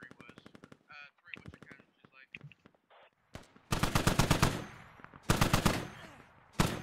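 A DShK heavy machine gun firing in the Squad video game: loud bursts of rapid automatic fire after a stretch of scattered quieter sounds, with a final short burst at the end.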